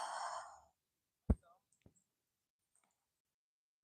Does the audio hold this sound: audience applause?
no